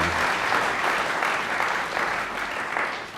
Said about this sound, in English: And I would like them to have an applause for them.